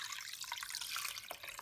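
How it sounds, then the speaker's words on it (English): Water pouring into a cooking pot while preparing a spatchcocked chicken with herbs, a steady bright splashing stream that runs close and continuous for under two seconds. "So that's all the water I'm going to add right now"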